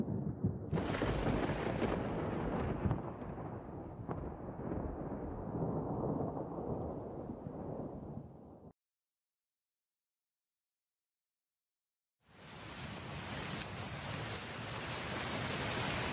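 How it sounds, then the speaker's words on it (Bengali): Thunder and rain in a cartoon scene: a loud rumbling burst with broad noisy wash that fades out, a silent gap, then steady hissing rain returns, with no talking. "যাক, বৃষ্টিটা হয়ে ভালোই হলো।"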